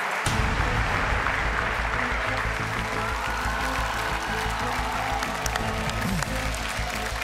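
Sustained applause from a crowd greeting the rap group Flashback on stage, thick continuous clapping with a low rumble of room noise, loud and steady throughout.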